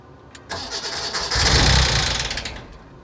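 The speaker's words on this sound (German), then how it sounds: "Das klang ein bisschen Motorschaden-like." A BMW E30 engine cranks and fires, then catches in a loud, rough burst that sounds like serious engine damage before fading back down, all within about three seconds.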